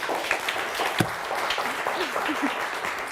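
Studio audience on a Turkish word game show applauds, moderate steady clapping with a few sharper claps, while a voice speaks faintly underneath.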